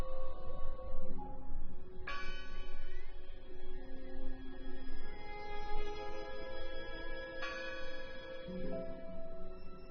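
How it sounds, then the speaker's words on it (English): A bell tolls in the video game Draugen. Several resonant strikes ring out with long decaying tones over a low rumbling ambience, moderately loud, with no voices. "Listen! The bell! They're still in there!"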